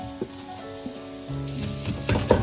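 Onions hitting a hot pan for a festive Eid chicken curry, sizzling with a few stirring clinks and scrapes, close and fairly steady over a couple of seconds.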